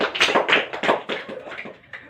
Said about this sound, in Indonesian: Kita tepuk tangan dong untuk Algi.